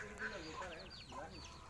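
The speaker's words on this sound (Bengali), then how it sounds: "হাঁস এটা হলো বাচ্চা হাঁস, একদিনের শূন্য বাচ্চা" One-day-old ducklings calling in a cluster of high, overlapping peeps and quacks, close by and fairly steady, with a soft murmur of background noise underneath.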